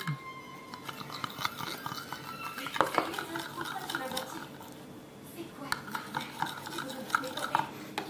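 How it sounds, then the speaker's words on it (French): Homemade slime being stirred in a container with a utensil, giving soft clicking, scraping and squelching contact sounds at close range, with brief speech in between. "Ok, je vais touiller maintenant."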